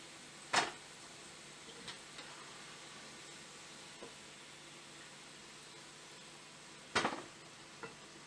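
Fried batata wada knocked against a metal cooking vessel: two sharp, distinct taps several seconds apart, with a few faint ticks between them over a quiet kitchen background.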